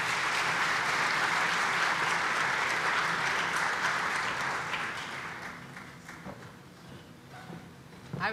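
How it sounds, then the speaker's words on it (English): A community meeting audience gives a speaker another round of applause, dense clapping that holds strong for several seconds and then thins out and tapers off, leaving scattered claps and room noise. "I would like to ask you to give Tom Wywoody another round of applause, please"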